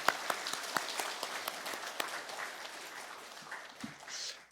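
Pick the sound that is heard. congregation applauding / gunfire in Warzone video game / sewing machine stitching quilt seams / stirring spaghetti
congregation applauding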